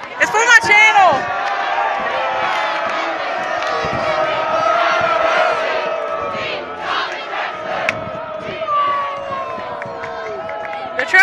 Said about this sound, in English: They're trying to chant. Nobody's like, everyone's booing.